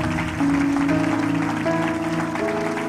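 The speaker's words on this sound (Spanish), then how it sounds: "Un aplauso." Congregation applause at a Christian family church service, a steady wash of clapping with sustained organ or keyboard tones underneath, moderately loud throughout.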